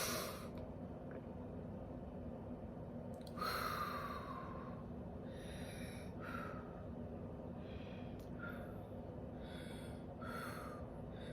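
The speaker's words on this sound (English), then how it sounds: "we're going to breathe in and breathe out so we can get our day started" Slow, deep breaths in and out, each a soft airy whoosh repeated at an unhurried pace, close and quiet, with no talking.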